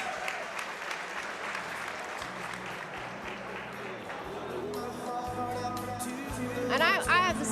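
A big crowd applauds steadily through a junior MMA bout at an AKA 29 event, with cheers and background chatter, swelling louder near the end as whistles and shouts rise over the din.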